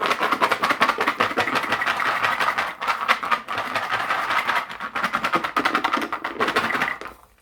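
A mill grinding homemade black powder made from toilet paper runs steadily with a dense, rattling churn of tumbling media, loud and continuous for about seven seconds before cutting off at the end.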